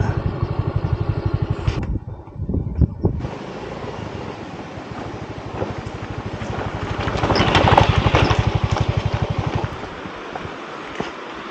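Motorcycle engine running steadily while riding a rough track toward a river, with rapid firing pulses, a brief drop near the start, and heavy wind buffeting the microphone.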